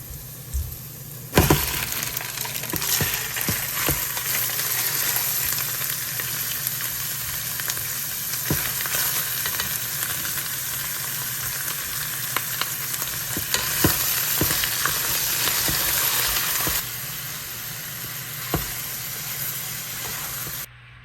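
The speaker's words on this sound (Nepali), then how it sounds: "हाम्रो पोर्क यसरी फुटिँदैछ" Pork fries in a pan with onions, sizzling loudly and steadily with crackling pops and occasional stirring knocks, the intense frying starting abruptly and easing slightly toward the end.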